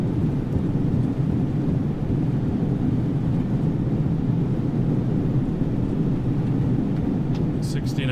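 Airbus A320neo thrust reversers roaring during landing rollout at Toronto: a loud, dense, continuous rumble with wind-like buffeting, steady throughout with no break.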